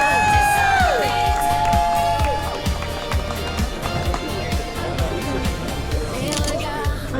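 Outdoor crowd at a summer biathlon prize ceremony in Luxembourg province, cheering and clapping for the first-place winner; steady loud crowd noise with whoops over rhythmic low thumping music and a brief falling tone near the start.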